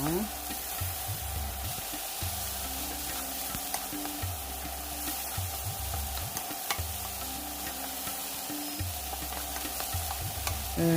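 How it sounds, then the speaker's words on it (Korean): Oyster mushrooms stir-fried with carrot and red chili in a pan, a steady close sizzle broken by rhythmic scraping and stirring strokes throughout, with no talking. "거의 볶아주면 느타리 버섯을 넣고 같이 볶습니다"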